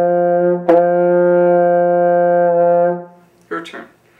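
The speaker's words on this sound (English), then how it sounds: "Tighten the lips up a little bit more, nice and strong, and get the high sound." A baritone horn holds a single high, steady brass note for about two seconds, close and clear, followed by a brief breathy sound after it stops.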